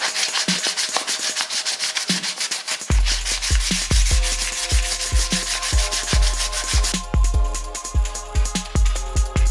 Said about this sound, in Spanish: Terminaremos por pasar una lija súper fina.